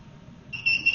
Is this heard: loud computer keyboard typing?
no